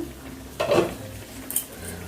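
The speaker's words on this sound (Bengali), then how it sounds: "দেখো পাঁচ মিনিট পর আমি আবার লিডটাকে তুললাম" A metal lid lifted off a pot of simmering Bengali tangra fish curry with potato and brinjal, one short clatter and scrape, then a faint light clink a moment later in a quiet kitchen.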